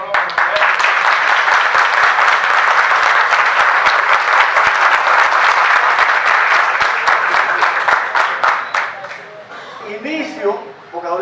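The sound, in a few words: audience applause at a lecture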